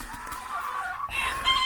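Soft hen clucking and chicken murmurs from laying hens in a coop, fairly close, with a brief rise in activity toward the end.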